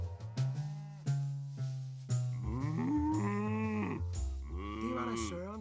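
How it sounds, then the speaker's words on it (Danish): Cows let loose bellow in a Danish children's audio story: several loud, drawn-out moos, some bleat-like, follow sharp thumps. "Thomas, det er køerne, der er sluppet ud"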